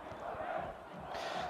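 A large celebrating crowd chants and roars in Clock Square in Homs, Syria, a steady massed din of many voices heard from a short distance.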